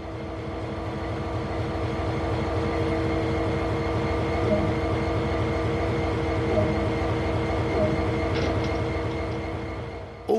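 An EMD SD40-2 diesel-electric locomotive with a 16-cylinder 3,000-horsepower engine idles in Train Sim World 2, a steady, close, rhythmic throbbing drone with layered harmonic hum and no voices.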